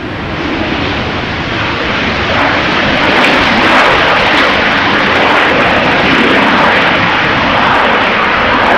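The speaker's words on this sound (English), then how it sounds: "that's KLM using the reversers" A KLM Boeing 737 roars on landing with its thrust reversers deployed, a loud, sustained broadband rush of jet noise that swells slightly and holds steady throughout, with no talking.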